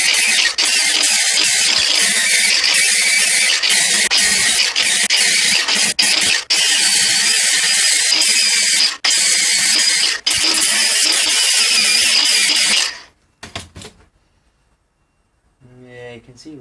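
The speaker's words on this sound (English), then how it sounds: "we'll get the power file and power file it down" A power file grinds down a cracked exhaust manifold on a turbocharged MGB GT, a loud, harsh continuous rasp for about twelve seconds with a few brief breaks, then stopping abruptly before faint handling noises.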